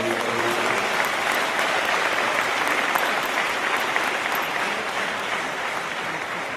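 Continuous, full applause from a large audience at an MBA graduation ceremony in Singapore, dense and steady from start to finish with no talking over it.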